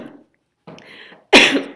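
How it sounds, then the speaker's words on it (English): A person coughs in a short fit: a couple of softer, muffled hacks, then one loud, sharp, close cough at the end. "Did not mean to have a coughing fit in the middle of this PowerPoint."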